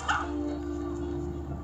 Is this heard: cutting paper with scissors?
no